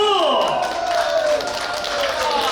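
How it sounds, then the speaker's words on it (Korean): An audience breaks into continuous, full applause at the start of a Saemaul art troupe performance. It is loud and sustained, with voices calling out on top of it. "박수!"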